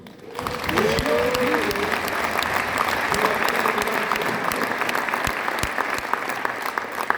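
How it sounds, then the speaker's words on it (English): An audience at a talk gives itself a round of applause, dense clapping swelling quickly and holding strong for about seven seconds, with a speaking voice briefly over the start. "So give yourself a round of applause"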